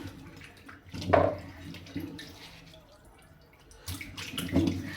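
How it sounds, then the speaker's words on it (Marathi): Bitter gourds are washed under running water, with a gentle splashing stream broken by a few louder sloshing bursts as the vegetables are handled, close by and otherwise quiet. "मी सगळे अगोदर कारले धुवून घेते."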